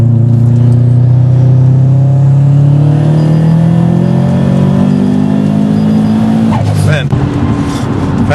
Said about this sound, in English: Let's do another pull and let's see how the car runs